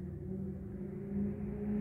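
Low, steady engine rumble of a car pulling up on a South African street, a continuous hum that swells slightly toward the end, with no talking.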